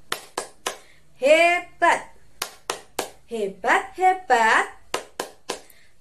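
Kindergarten children and their teacher clap their hands in rhythm during a group chant. Sharp, close claps come in quick bursts between loud sung and spoken voices.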